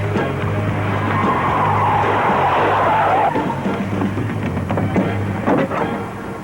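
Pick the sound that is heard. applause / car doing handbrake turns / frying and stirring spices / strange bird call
car doing handbrake turns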